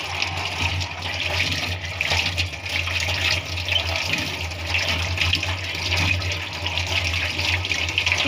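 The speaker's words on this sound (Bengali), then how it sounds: "পোলাও পাতাগুলো আমরা এখন ভালোভাবে ধুয়ে নিবে।" Home-grown pulao leaves are washed under a running tap, a steady close stream of water splashing continuously with light rustling of the leaves.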